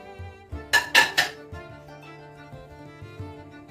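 A metal cooking pot is handled while beef cooks for biryani, giving three sharp, close metallic clanks in quick succession, then faint knocks over a low background hum.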